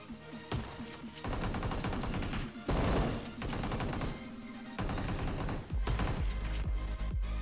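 Repeated shotgun blasts and bursts of automatic gunfire fill a mobile shooter video game firefight, loud and close, coming in dense volleys with short gaps and no speech.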